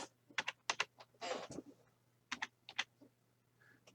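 Keys tapped on a computer keyboard while entering a code for a forex trading order: short bursts of quick clicks with a longer rattling run in between, close and clear, with a low steady hum underneath and no talking.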